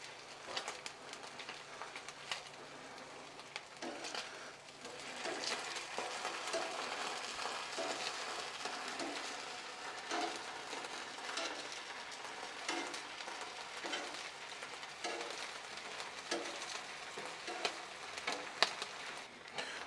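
Slices of Spam sizzle and fry on a hot outdoor Blackstone griddle, a steady crackling hiss with scattered small pops that runs throughout at moderate loudness, with no talk.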